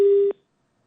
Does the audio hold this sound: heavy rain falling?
no